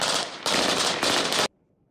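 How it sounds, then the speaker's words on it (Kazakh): Automatic rifle fire at a military training exercise on a Karaganda region training ground: loud, close bursts of rapid shots in two or three sustained volleys, cutting off abruptly into silence. "Атыс шабыстың айғағы автоматтың даусы."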